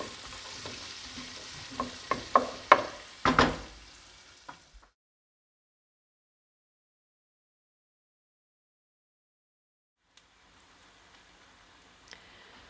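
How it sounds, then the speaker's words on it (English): Sliced onion and celery sautéing in a pan as the base for spaghetti and meatballs: a few sharp scraping stirs and crackles up front, then near silence with faint sizzle returning at the end. "The onion and celery has been cooking for about 5 minutes"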